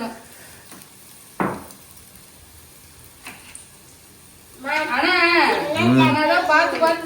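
Food sautéing in a pan in a home kitchen, a soft steady sizzle with a couple of faint utensil taps, then someone talks over it.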